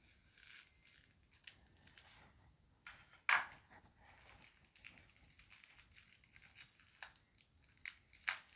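Scissors cutting open the plastic wrap on a tarot deck, with soft snips and crinkling from close by, one sharp louder crackle partway through, over a quiet background.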